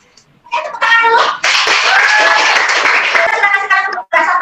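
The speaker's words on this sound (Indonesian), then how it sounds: "Oke, tepuk tangan dulu." A classroom of students claps hands together in a dense burst of applause, loud and close, with a voice speaking briefly before it begins.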